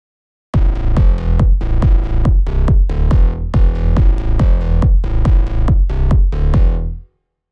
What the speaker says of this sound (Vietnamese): khi mà chúng ta áp dụng cái cách này á thì cái kick của các bạn sẽ nghe như thế này.